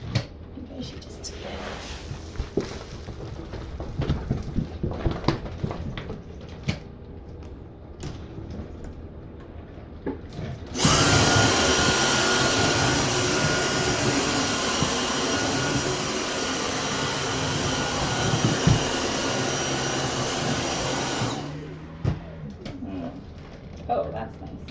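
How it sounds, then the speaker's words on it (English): A household vacuum cleaner switches on abruptly after scattered knocks and a voice. It whirs loudly and steadily for about ten seconds before cutting off, then the quieter room sounds return. "Alright, vacuum time."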